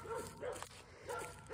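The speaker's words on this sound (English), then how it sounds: "the dog's pissing me off" A dog barks and yips repeatedly out in the woods, several high, sharp yaps in an uneven rhythm at moderate distance, with no talking.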